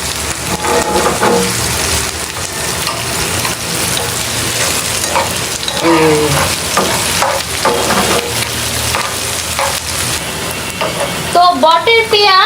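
Beef tripe fries in a pan with a steady, dense sizzle and crackle throughout, while voices briefly break through near the middle and the end.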